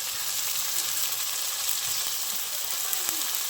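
Yogurt hits hot oil with ground mustard, melon seeds and poppy seeds in a pan for begun bahar and sizzles loudly and steadily, a close, unbroken frying crackle with no talking.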